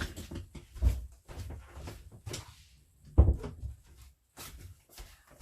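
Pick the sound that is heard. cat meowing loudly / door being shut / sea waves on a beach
door being shut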